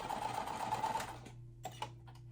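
Sewing machine stitching pieces of cotton quilting fabric, a steady close motor whir that stops partway, followed by a couple of soft clicks and a low hum.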